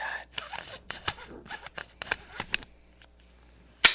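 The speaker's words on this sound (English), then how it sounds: "BCM bolt. Hear that?" A BCM rifle bolt worked by hand, a run of sharp metallic clicks, slides and clacks in quick succession close to the mic, followed by a short pause and one final crisp snap.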